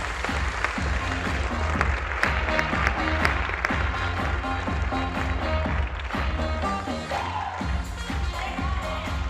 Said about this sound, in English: please give Minister Ernkrans a big applause